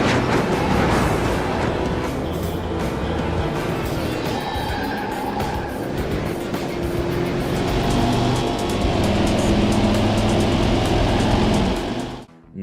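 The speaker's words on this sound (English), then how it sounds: "just a generic engine whine that could probably belong to any box" A loud, steady generic engine whine from a racing car in a video game that holds its pitch for several seconds before cutting off abruptly at the end.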